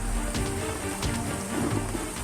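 Heavy rain pours during a flash flood in a village in Pati Regency, a steady, dense hiss of falling water close by and continuous throughout, with no voices.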